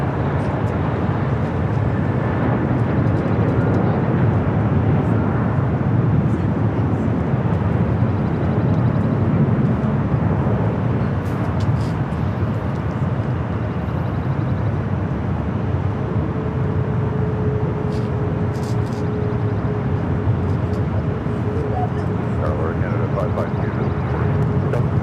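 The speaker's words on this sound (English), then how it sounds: "This arrival is Southwest Airlines 3785 coming in from St." A Southwest Airlines Boeing 737 MAX 8 arriving at LAX, a loud continuous jet roar that slowly shifts and fades, with a person talking over it.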